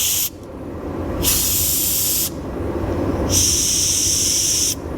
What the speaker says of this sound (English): I'm just gonna blow some air through here to make sure there's no scraps of rubber in the hose